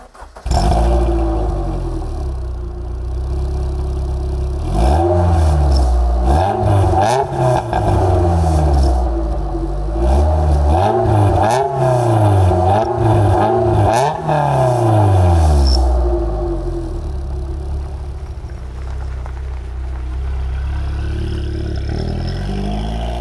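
A loud MG TF 135 sports car engine with a hole in its exhaust revs hard and roars as it accelerates through the gears on a road, rising and falling repeatedly, close and continuous, then settles to a rumbling idle.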